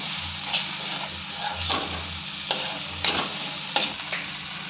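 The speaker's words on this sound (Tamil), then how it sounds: "இந்த கருவேப்பிலை போட்டுருங்க" Curry leaves sizzle in hot oil in a pan for soya kothu curry, with a steady crackling fry broken by repeated scraping stirs of a spoon at close range.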